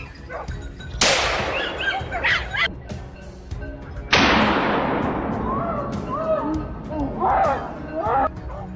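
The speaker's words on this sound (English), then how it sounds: "a sharp crack of gunfire marked the fierce beginning of today's battle" Two sharp, loud gunshots ring out a few seconds apart during a wild boar hunt outdoors, each trailing off into echo, while hunting dogs bark and yip between and after the shots.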